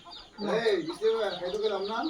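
Chickens cluck close by in a short, busy run of rising and falling throaty calls.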